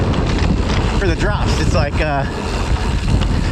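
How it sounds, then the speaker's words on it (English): Strong wind buffets the microphone on a mountain bike trail, a loud continuous roar with gusty swells while a person talks briefly over it. "Oh, it's windy."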